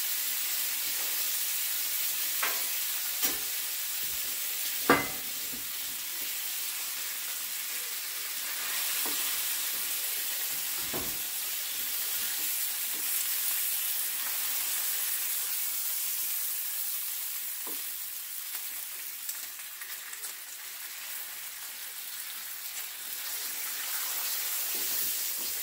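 Bacon sizzles in a pan for barnyard burgers, a long and even hiss with soft crackles and a few sharp pops early on, fairly quiet and with no voices.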